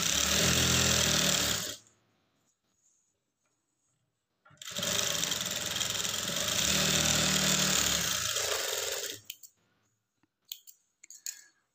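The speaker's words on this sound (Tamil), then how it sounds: "நான் இப்போ கரெக்டாக இருக்குது, இன்னொரு தையல் போட்டுக்கிறேன்." An electric sewing machine stitches a lined blouse in two long, loud, fast runs separated by a few seconds of silence. A handful of short clicks and knocks follow at the end.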